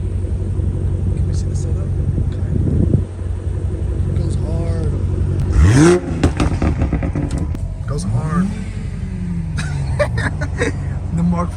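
Dodge Challenger Hellcat Redeye at a drift meet, its engine roaring loudly with rumbling revs and rising pitch sweeps, mixed with sharp bangs like fireworks and excited voices talking over it.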